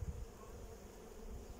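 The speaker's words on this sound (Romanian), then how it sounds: "albinele au acel tremurat din aripi" Honeybees on a hive frame in an apiary, a soft continuous buzzing hum, close and steady, with no talking.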